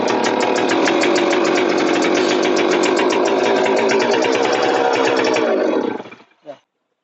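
A chainsaw engine started with a recoil pull runs loud and close with a steady, buzzing two-stroke roar for about six seconds, then cuts off abruptly with a short sputter.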